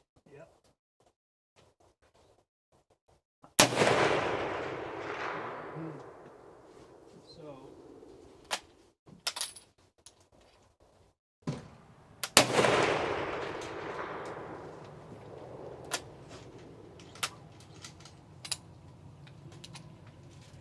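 Two sharp, loud rifle shots from a WWI rifle firing antique ammunition outdoors, each followed by a long fading echo, with smaller clicks and handling noises in between and a voice speaking.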